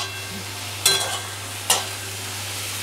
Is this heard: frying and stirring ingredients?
yes